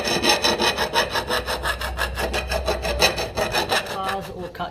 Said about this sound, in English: Bars all cut down in width and height.